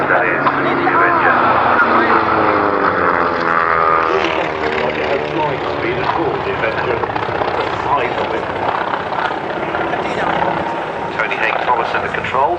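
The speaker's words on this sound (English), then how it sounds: "massive beast that is, the Avenger" A Grumman Avenger warplane, its big radial engine droning, passes over the Duxford airshow. It is loud at first with a clear Doppler pitch drop, then fades as it moves away, while a commentator talks over it on the public address.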